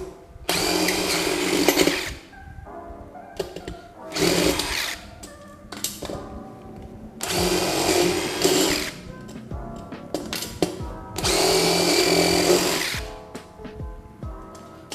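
A Dewalt DCF887 impact driver runs in four loud, buzzing bursts of about two seconds each, with quieter mechanical rattling between them.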